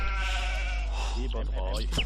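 A single drawn-out sheep bleat from the video game Age of Empires II HD rings out clearly, followed by brief bleating fragments, over a constant low hum.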